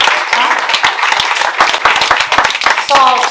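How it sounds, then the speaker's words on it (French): An audience at a small-town book fair in a borrowed hall claps in a lively, uneven burst, individual hand claps standing out close by, with a voice speaking over the applause. "on peut l'applaudir parce que franchement,"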